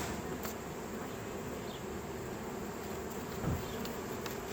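A swarm of bees roughly the size of a 3.5 to 4 pound ball, buzzing steadily in Delano, California, with a continuous faint hum and a few individual bees passing close.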